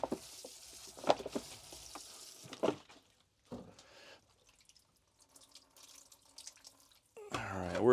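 Water from a watering hose splashing onto a bonsai tree in its pot, with irregular drips and trickles and quiet pauses, ending in a louder close burst of flowing water.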